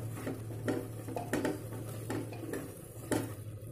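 Spices for dhaba-style chana dal fry in ghee while a spoon stirs them, striking the pan in scattered metallic clinks and scrapes over a faint, low, steady sizzle.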